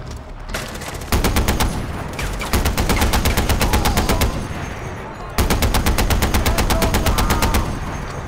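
Rapid automatic gunfire from Far Cry 4 rattles in several loud, sustained bursts separated by brief pauses, with heavy low-end thumps beneath the crackling shots.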